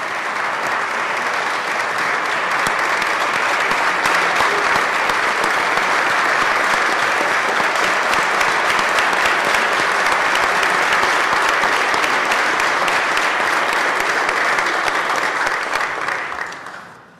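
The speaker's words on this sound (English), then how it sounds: "I really appreciate that applause" Loud, sustained applause in a state senate chamber, dense hand clapping holding steady for about sixteen seconds before quickly dying away.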